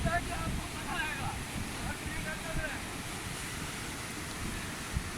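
Fast, high-pressure river water rushing near Dudipatsar Lake, a steady broadband roar close to the microphone with wind buffeting, running continuously without pause.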